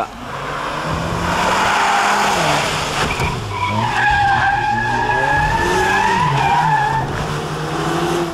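A drift car running a TK layout skids hard with sustained tire squeal, its engine note rising and falling as it slides through the corner, loud and continuous.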